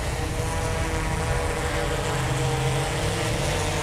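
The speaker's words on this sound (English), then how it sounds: "Some people might say my head is too close to those propellers, but you get used to it after a while" DJI Inspire 2 drone propellers spinning nearby, a steady loud whirring drone with constant buzz and airy hiss, unbroken for the whole stretch with no voices.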